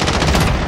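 A short, loud burst of rapid automatic gunfire from the video game Call of Duty: Modern Warfare, with dense, overlapping shots close up.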